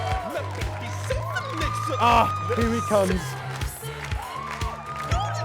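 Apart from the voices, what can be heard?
crowd cheering and applauding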